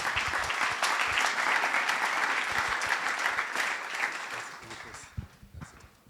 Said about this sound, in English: and you can clap again.